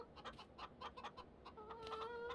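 A rooster in the Farming Simulator 15 video game gives a quick run of clucks, followed by a longer drawn-out call at the end, heard alone and fairly close at low volume.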